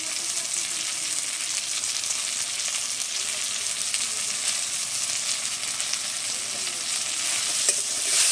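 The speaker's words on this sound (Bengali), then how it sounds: "মশলাটা টমেটোর সাথে ভালোভাবে মিশিয়ে নিচ্ছি, অল্প সামান্য জল দিয়ে কষে নেব।" Tomato stirred and fried in a pan with salt, turmeric, chili powder and coriander powder, giving a steady, loud, bright sizzle throughout with no one talking.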